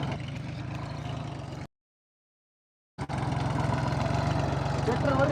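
A tractor engine runs steadily in a soybean field, a low, even rumble that drops out briefly and then resumes at the same level.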